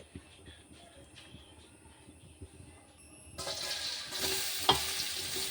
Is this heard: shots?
no